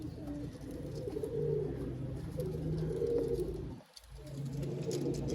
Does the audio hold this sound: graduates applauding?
no